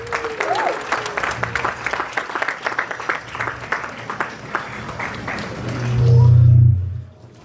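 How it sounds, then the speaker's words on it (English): Applause and cheering from an audience at a red carpet film premiere, dense steady clapping that swells into a louder cheer near the end before cutting off. "Keep the applause and the cheers coming."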